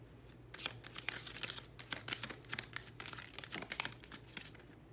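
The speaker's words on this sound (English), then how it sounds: "Maybe I'll get one Kipper card to end this reading." Kipper fortune-telling cards being shuffled by hand, a rapid flurry of papery riffles and slaps in quick bursts, close and crisp with no voices.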